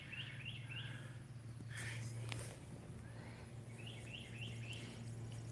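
Birds chirp in short repeated bursts outside a screened-in porch, moderately near, with a steady low hum running underneath and a few soft knocks in between.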